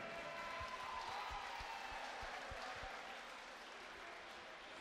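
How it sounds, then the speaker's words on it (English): Applause rises from the crowd at a cage boxing event after a three-round fight, a steady wash of clapping with a few sharp thumps, heard at a distance and fairly faint throughout. "a big round of applause to both these boxers,"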